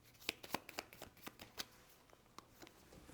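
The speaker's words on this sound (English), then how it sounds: "Shuffling up those cards." A deck of cards is shuffled close by during a solo Star Trek: Captain's Chair tabletop session: a run of sharp, crisp riffling clicks and snaps with uneven rhythm, no voices.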